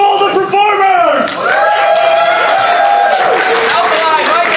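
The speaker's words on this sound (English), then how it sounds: "Let's get a round of applause for all the performers." An improv theatre audience at a Party Quirks game cheers and whoops loudly, with shouting voices riding over a continuous bed of crowd clapping.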